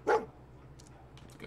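A dog barks once, loud and close, in Fallout 4, followed by faint game ambience and scattered soft sounds.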